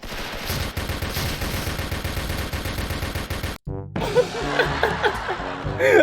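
Sustained automatic fire from an EVL AUG rifle in the online shooter Special Force rattles loud and close, breaks off briefly midway, then resumes with scattered shots and laughter and voices over it.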